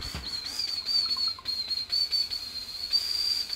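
A person whistles a high, wavering tune close to the microphone, thin and breathy, with short breaks between phrases.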